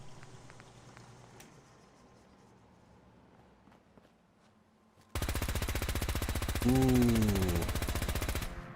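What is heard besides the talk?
P90 gun firing in Fallout 4 video game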